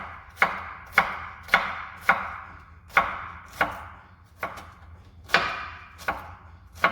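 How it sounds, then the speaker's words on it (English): Knife chopping vegetables for Portuguese potato and chouriço soup, a dozen crisp, evenly spaced thuds on a cutting board, close and loud with quiet between strikes. "and then you just chop"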